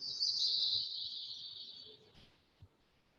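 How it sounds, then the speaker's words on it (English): Birds chirp outdoors in a steady, fairly faint high-pitched stream that fades gradually toward the end, with no talk over it. "the chirping birds,"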